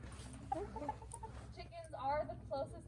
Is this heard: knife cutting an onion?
no